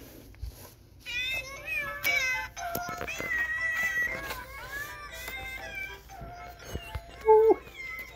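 A cat trying to free kittens stuck in a birthday card meows repeatedly up close in short, varied calls. A louder, sharper cry comes near the end, with faint background noise between the meows.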